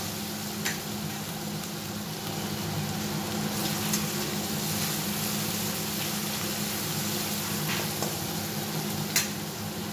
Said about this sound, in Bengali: পেঁয়াজ রসুনের ভাজাটা একটু করে নিই